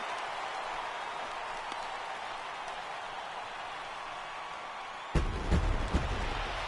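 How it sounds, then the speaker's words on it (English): A home crowd in a PS4 baseball game keeps up a steady roar of cheering throughout, then swells louder with a burst near the end. "the home crowd is loving it"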